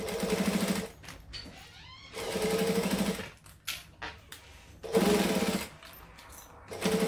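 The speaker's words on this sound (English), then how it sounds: "I'm going to sew a complete loop" A sewing machine top stitches a complete loop around a glamour clutch in steady bursts, running for about a second at a time with brief pauses between, close and clear with no talking.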